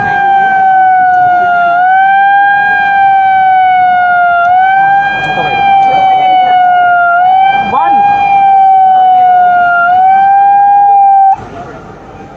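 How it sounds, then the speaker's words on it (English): A loud, sustained Indian railways Kavach collision-avoidance warning siren wails on a steady pitch with slight wavering, signalling an oncoming train after automatic braking. It continues for several seconds before cutting out abruptly near the end. "the siren has gone off, which means the train is coming."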